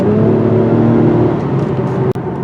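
A 2021 Acura TLX Type-S in sport mode gives off a steady, loud engine and road drone while cruising, with a brief dip near the end.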